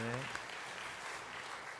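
A church congregation claps at a Sunday service to welcome a newly registered family: a short burst of dense, steady applause, with a voice briefly at the start.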